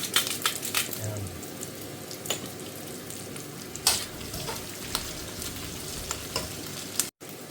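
Vegetables for pansit sauté in a hot pan, with a steady close sizzle and frying hiss broken by occasional clacks and stirring scrapes.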